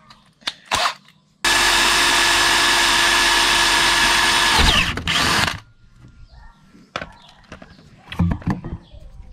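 A power drill bores a hole in a part of a Yamaha MBK Slider scooter, one loud steady burst of about four seconds that ends in a rough grinding, framed by clicks and handling noises before and after.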